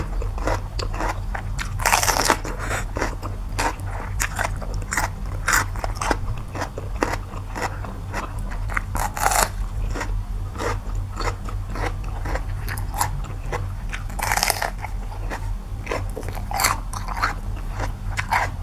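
Crunchy grilled chicken bitten and chewed up close, a continuous run of sharp crackling crunches in an irregular rhythm, loud and alone without speech.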